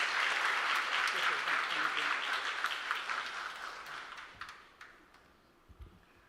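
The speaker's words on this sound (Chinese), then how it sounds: "我们用拍手来欢迎刘院长" Church congregation at a Sunday service clapping to welcome a hospital director, a dense, steady round of applause from many hands that fades out toward the end.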